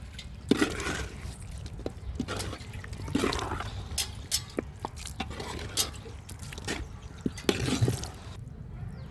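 Chicken feet and head frying in a pan with water sprinkled in, stirred with a spoon: continuous sizzling and watery bubbling with scraping clicks and knocks throughout, close and moderately loud.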